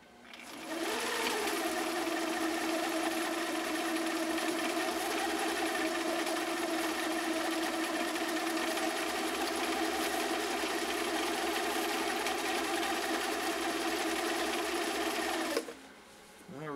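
A Viking 6370 sewing machine runs steadily at full speed for a long stretch laying a bridging stitch, a continuous close mechanical whir that starts abruptly and cuts off near the end, with no talking.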